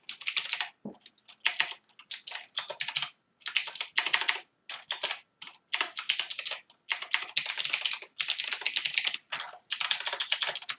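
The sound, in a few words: typing on a Rii RK900 gaming keyboard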